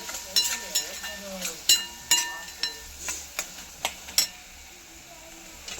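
Spices frying in hot oil for egg bhurji, a soft, steady sizzle broken by about a dozen sharp clinks and scrapes of stirring, close by and fairly quiet.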